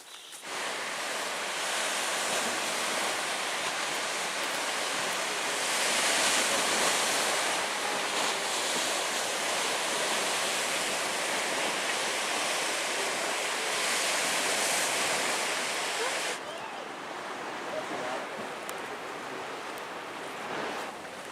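Ocean waves on the shore at Miners Beach, Pictured Rocks, Michigan, a loud, continuous wash of surf with wind noise, steady throughout and slightly softer near the end.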